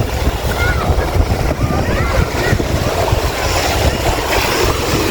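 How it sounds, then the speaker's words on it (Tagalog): Waves wash continuously onto a beach with heavy wind buffeting the microphone; a voice talks faintly beneath the roar as the waves grow stronger. "Ayan, lumakas na yung alon."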